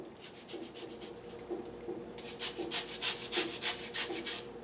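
A whole lemon is rasped against a fine grater for zest, giving a run of short scraping strokes in a steady rhythm that grows brighter and louder partway through, close up with no talk.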